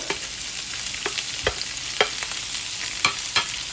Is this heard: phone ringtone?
no